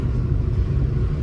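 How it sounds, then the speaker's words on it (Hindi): Heavy road traffic in a long jam gives off a dense, steady low rumble of car engines. It fills the scene loudly and evenly, with no voices standing out. "बहुत लंबा ट्रैफिक है यार"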